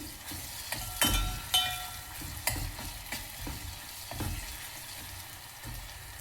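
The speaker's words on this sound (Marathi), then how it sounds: "आता मी याच्यामध्ये टाकत आहे आलं लसणाची पेस्ट, अर्धा चम्मच, थोडा अंदाजे आलं लसणाची पेस्ट टाकलेली आहे" Ginger-garlic paste frying in a pan with onions, a steady soft sizzle broken by several sharp scraping stirs of a spoon against the pan, close and moderately quiet.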